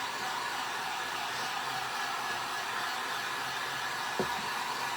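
A hair dryer blows on a mason jar flower bouquet craft, giving a continuous, even whooshing hum at moderate volume, with one brief knock near the end.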